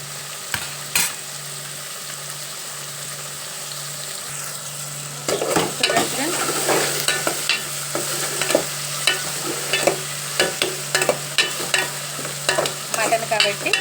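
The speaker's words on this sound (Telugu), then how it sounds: "బాగా కలుపుదాం." Fried onion and tomato masala for a mutton curry crackles in a pan, quiet at first and then stirred with repeated scraping strokes over a constant sizzle.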